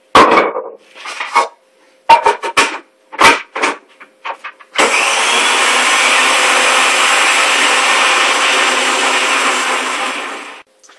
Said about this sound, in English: now I'm going to transfer it into the blender.